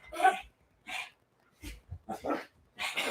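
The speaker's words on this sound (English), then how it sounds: "Come on, puppies." Pet dogs on a cruise-themed livestream give several short sharp barks and yips, five or six separate bursts with quiet gaps, fairly close and clear.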